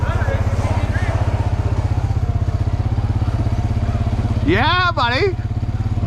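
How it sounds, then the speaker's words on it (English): A Honda engine idles steadily and close by, its low pulsing drone running the whole time while someone talks briefly over it near the end. "Honda engaged"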